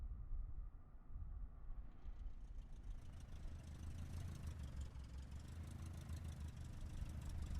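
A boat engine on a river runs unevenly instead of settling into a smooth idle, a steady, fairly faint rough drone with a slight pulsing beat throughout, no voices.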